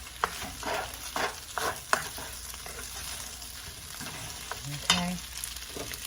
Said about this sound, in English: So let's stir it up a little more